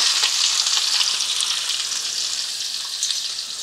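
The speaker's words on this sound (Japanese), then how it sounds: "あともう玉ねぎを入れます" Onions go into hot oil with curry spices for a burdock chicken curry: a loud, steady, close-up sizzle and crackle that runs unbroken, with no talking.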